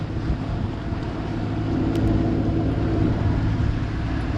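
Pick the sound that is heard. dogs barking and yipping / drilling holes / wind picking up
wind picking up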